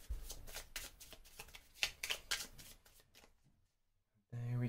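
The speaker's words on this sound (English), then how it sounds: "I'll give this a shuffle." A deck of Marvel Champions playing cards is riffled and bridged in quick rhythmic bursts for about three seconds, close and crisp, then a pause and a bump of handling.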